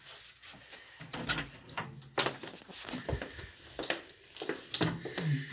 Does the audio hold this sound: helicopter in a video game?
no